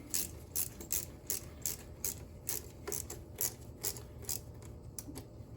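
A 5/16 hose clamp being tightened on the air intake hose of a 2006 Honda Pilot, giving a steady run of quiet, close ratcheting clicks at an even rhythm over low background hum.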